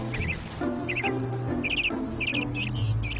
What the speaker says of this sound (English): Birds in the forest also like the sweet secretion of Jill and her sisters.